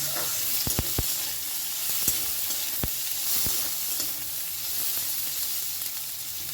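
Food frying in a pan over a medium gas flame, a steady bright sizzle with scattered sharp taps of a utensil as it is stirred, close and even.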